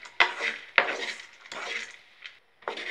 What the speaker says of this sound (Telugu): ఈ మిశ్రమాన్ని ఇందులోకి వేసుకుని కలుపుకోవాలండి